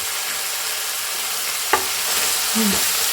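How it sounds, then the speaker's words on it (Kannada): Ginger garlic paste frying in a pan for cabbage and pea fried rice, a steady hiss of sizzling oil with a couple of brief scraping stirs near the end. "ಇವಾಗ ಚೂರು ಶುಂಠಿ ಬೆಳ್ಳುಳ್ಳಿ ಪೇಸ್ಟ್ ಹಾಕ್ತೀನಿ"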